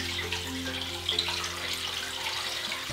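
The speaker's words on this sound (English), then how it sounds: "I've got filtered water here that we just want to cover up the bones" Filtered water pours steadily over chicken bones in a crock pot, a continuous close splashing and trickling with no talk over it.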